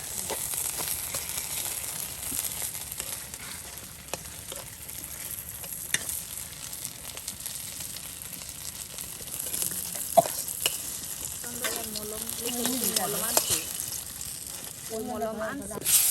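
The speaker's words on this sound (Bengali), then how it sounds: "এরপর বেগুন ভাজা করা হবে" Eggplant fritters (begun bora) fry in oil for a village-style Iftar spread, a soft continuous sizzle with occasional stirring knocks running throughout, while voices come and go faintly over it near the end.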